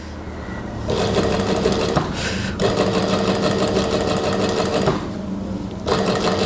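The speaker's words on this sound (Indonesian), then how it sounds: "tinggal kita jahit lagi" A sewing machine stitching a replacement zipper into jeans, running in loud steady whirring bursts broken by brief pauses as the fabric is turned, close up with no talking.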